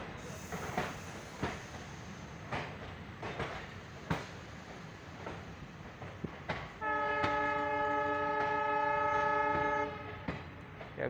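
Vishwamanava Express at Khanapur station, with rumbling, clacking train noise and scattered knocks, then a loud sustained multi-tone horn blast lasting about four seconds near the end.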